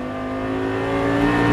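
Lamborghini Gallardo LP560 engine held at full throttle, a loud, close, steady high-revving roar with strong harmonic tones climbing slightly in pitch, no talk over it.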